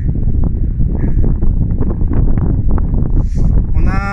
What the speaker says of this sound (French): On a un peu le vent qui se lève